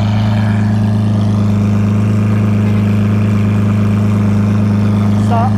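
Lamborghini Aventador LP700-4 V12 idling at a standstill, its exhaust holding a loud, steady low rumble for the whole stretch with a brief higher whine near the end.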